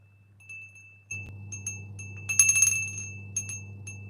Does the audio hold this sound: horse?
no